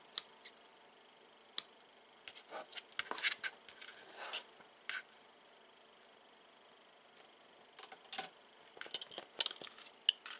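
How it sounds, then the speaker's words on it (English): Quiet, crisp snips of scissors cutting friendship-bracelet yarn, in irregular bursts: a few isolated clips, then a cluster of rapid cuts, then more snips near the end. "I will take the scissors and cut the yarns like this"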